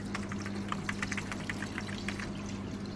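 Water streams steadily into a pot for onion-skin dyeing, a continuous close splashing pour over a low steady hum, with no one speaking.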